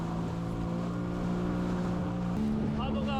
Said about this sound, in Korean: 이 보트보다도 3배 큰 파도가 치고 있습니다